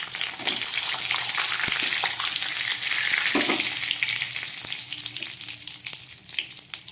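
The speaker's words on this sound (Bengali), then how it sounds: "দিয়ে দিচ্ছি একটু জিরে ফোড়ন, আর দিয়ে দিচ্ছি দুটো তেজপাতা" Cumin seeds and two bay leaves crackle in hot oil, a dense bright sizzle close by with scattered pops and a few stirring knocks, gradually easing toward the end.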